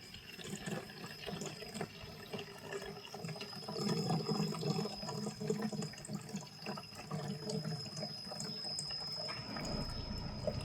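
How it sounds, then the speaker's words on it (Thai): Water runs steadily to rinse acid off gold dust held in a filter cloth during gold extraction. The flow is a constant, fairly faint wash with no speech. "ล้างน้ำกรดออกจนหมด"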